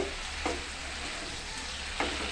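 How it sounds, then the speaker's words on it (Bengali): Broccoli and tengra fish curry stirred in a pan, a steady low sizzle with two brief scraping strokes of the spoon, close and alone. "দেখুন, আমি আবারও নাড়াচাড়া করে নিচ্ছি।"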